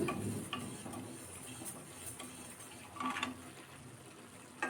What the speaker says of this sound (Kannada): ಹಾಗೆ ಒಂದು ಬಾಣಲೆ ಬಿಸಿ ಮಾಡಿ ಅದಕ್ಕೆ ಒಂದು 1/4 ಕಪ್ಪಷ್ಟು ಕುಚ್ಚಲಕ್ಕಿನ ಹಾಕಿಬಿಟ್ಟು ಫ್ರೈ ಮಾಡ್ಕೊಳ್ಬೇಕು.